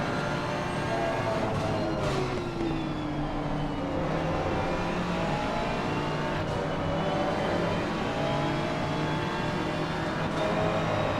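BMW and Ferrari GT3 race cars from Assetto Corsa Competizione battle side by side, their engines droning loud and continuous with rising and falling pitch as they rev through gears.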